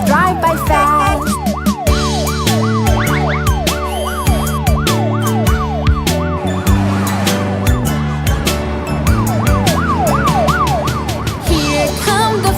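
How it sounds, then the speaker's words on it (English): Cartoon fire truck sirens wail loudly and continuously, a rising-and-falling emergency siren pattern over a steady music bed with no talking. "Hear the sirens shout real loud, let our trucks move past."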